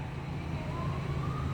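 A police squad car runs its siren with lights on, a steady wail heard from inside a parked 2004 Chevy Colorado as the car passes outside, continuous and fairly faint over low engine rumble.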